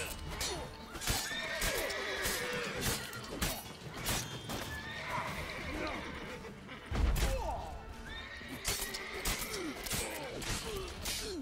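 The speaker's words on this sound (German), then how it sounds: "Ganz ruhig, Pferdchen." Horse neighs and whinnies repeatedly in The Witcher 3, mixed with clip-clop hoofbeats and game ambience, with a brief thud partway through.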